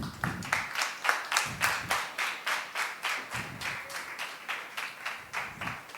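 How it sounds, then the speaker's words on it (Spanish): An audience applauds a storyteller named Alejo with a fairly faint, even run of claps in a steady rhythm, heard from some distance. "Entusiasmos en ese aplauso pues para Alejo"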